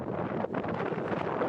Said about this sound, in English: the main thing here is it's super windy today